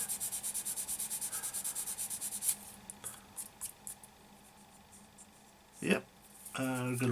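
Sanding stick rubbed steadily back and forth on a model car part for a Mad Max Camaro build, a close, rhythmic scratching for a couple of seconds, then sparse light scrapes and a brief voice near the end.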